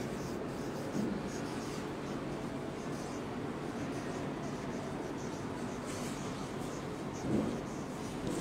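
A pencil writes a line of English letters on paper in a nursery-class lesson, with continuous soft scratching strokes close by and a couple of faint taps, no talk over it.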